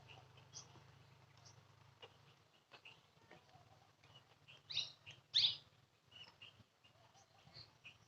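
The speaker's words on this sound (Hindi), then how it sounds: "पंछी चहचहा रहे" Scattered bird chirps and tweets in the early morning outdoors, a few brighter calls standing out briefly among faint distant birdsong over a low steady background hum.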